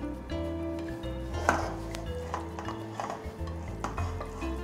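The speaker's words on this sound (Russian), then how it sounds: "теперь выкладываем лук. И разравниваем по всей поверхности." Onion being spread and levelled with a utensil over batter for a budget poured onion pie, soft scraping and light clinks of spoon against dish in an ongoing close rhythm, with no talk.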